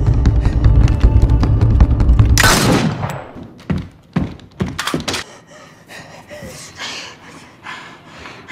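Gunfire in a film shootout at a house: a dense volley of loud shots, then scattered single cracks and thuds fading into quieter sounds.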